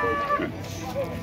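Calves and cattle at a cattle fair in Campo Grande, Alagoas, Brazil, with a brief lowing call near the start over a busy, crowded background and scattered voices.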